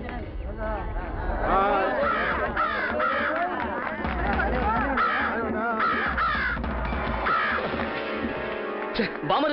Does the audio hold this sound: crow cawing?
yes